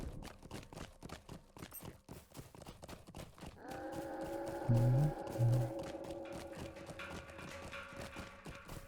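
Horse hooves clip-clop in the fantasy game Lord of the Rings Online, the footfalls fairly quiet and steady under game music and ambience, with a brief louder thud partway through.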